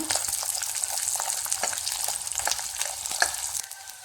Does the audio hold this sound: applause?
no